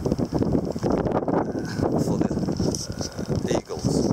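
Wind blowing hard across an open coastal hilltop near Sagres, buffeting the microphone with a steady, loud rumble and gusty surges throughout.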